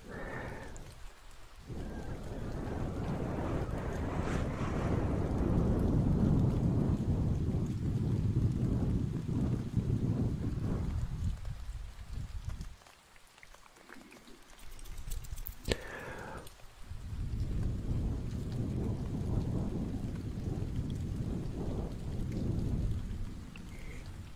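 An ASMR trigger imitates a thunderstorm: a deep, continuous rumbling wash like heavy rain and rolling thunder, close and steady, dipping briefly near the middle before building again.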